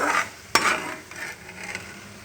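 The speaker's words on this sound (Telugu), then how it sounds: "ఈ కడ్డీ చేపల్ని ఒక గిన్నెలోకి తీసుకుందాం" Fried fish is moved from a kadai into a bowl with a sharp metallic clink of utensil on cookware, followed by lighter scraping and soft clatter, close up with a faint sizzle beneath.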